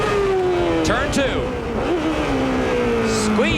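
A Chevrolet-engined CART race car at Laguna Seca in 1993 screams at high revs under hard acceleration, a loud, continuous whine rising through the gears with short shift dips, with commentary over it.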